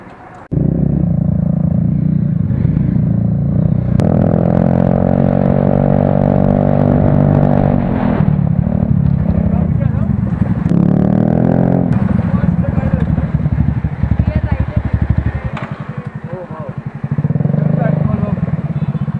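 Bullet motorcycles ridden by women riders on a road in Lucknow, a steady loud engine thump and road rumble close up, with voices talking over it throughout.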